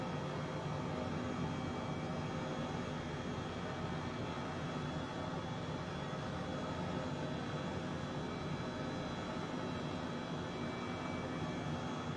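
An H135 helicopter in Microsoft Flight Simulator lifting off, a steady, loud broadband turbine and rotor roar that holds constant throughout without any talk.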